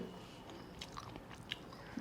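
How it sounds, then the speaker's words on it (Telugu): A few quiet crisp bites and chewing crunches, close up and soft, with no talking. "పచ్చిమిరపకాయ కరకరలాడుతుంది."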